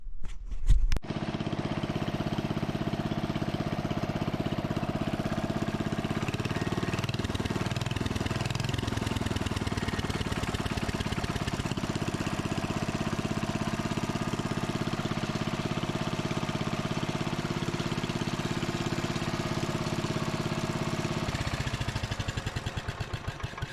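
Small engine of a 1970 John Deere 110 garden tractor catching and running steadily at idle, a close, even rumble that holds for about twenty seconds before cutting off, no talk.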